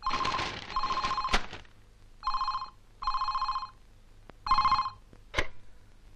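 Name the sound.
telephone ringing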